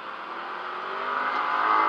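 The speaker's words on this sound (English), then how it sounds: "Hoover driving in the RZR now" A 2020 Polaris RZR XP side-by-side off-road vehicle driving along a trail, its engine drone steady and close, slowly swelling in loudness as it pulls ahead with no talking over it.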